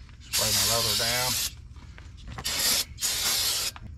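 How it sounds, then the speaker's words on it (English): Brake cleaner aerosol spray hisses onto a brake rotor in three bursts, a long one then two shorter ones, close and loud, with a brief voice between. "Spray my rotor down."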